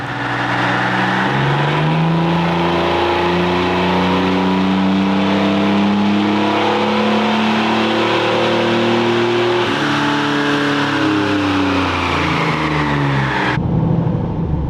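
A GMC Typhoon truck engine revs hard on a dyno, climbing through gears in loud, sustained pulls with rising and stepping pitch, then cutting off sharply near the end.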